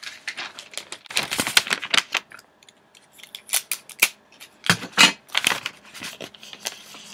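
Wrapping paper is handled and taped around a Doctor Who poster, giving close, irregular crinkling, rustling and sharp crackles in uneven bursts, with short pauses between them.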